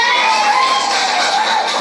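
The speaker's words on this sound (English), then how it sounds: "That was the sound of the courtroom cheers" Courtroom crowd cheering and shouting at a murder sentencing, a brief, loud, dense wash of many voices.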